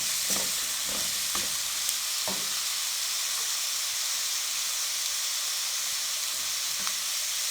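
Spices being mixed into a filling frying in a pan give a steady hissing sizzle close by, with a few early scrapes and taps of the spoon against the pan.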